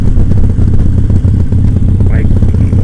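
A Harley motorcycle engine rumbles steadily while riding, a loud low-pitched throb continuing throughout, with someone talking over it.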